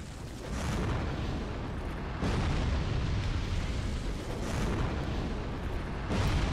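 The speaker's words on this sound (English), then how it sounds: "I was hoping that that would do an AoE explosion hitting all three." Explosions and blasts in Dark Souls 2 combat inside Drangleic Castle, heavy rumbling booms with dense low-end roar, several bursts swelling in succession across the clip with sustained loud rumble between them, no talking.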